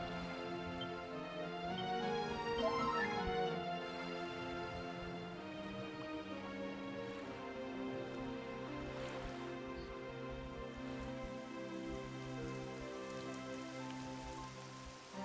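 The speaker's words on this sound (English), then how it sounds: "Some rain." Rain patters steadily in the PS4 game Dragon Quest XI, a soft continuous hiss layered under sustained melodic background music.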